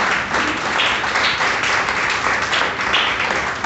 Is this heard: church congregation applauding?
yes